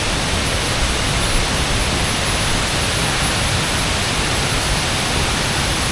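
Vachirathan waterfall in Doi Inthanon National Park during the rainy season roars as a dense, unbroken broadband rush of falling water, loud and close, with no voices.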